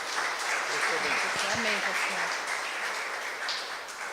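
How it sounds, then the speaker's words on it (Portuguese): Church congregation clapping fills the space, a dense steady patter of many hands, with some voices faintly underneath. "Palmas para Jesus."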